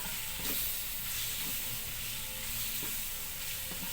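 Beef skin sautéing in a pan sizzles and crackles steadily, with occasional scrapes of a spoon stirring through it, close and continuous with no talking.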